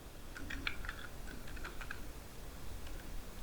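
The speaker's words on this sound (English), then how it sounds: "You can type your text" Fingers type text on a computer keyboard, producing soft, quick clusters of close keystroke clicks that are busiest early on and then thin out to a few faint taps, with no talking.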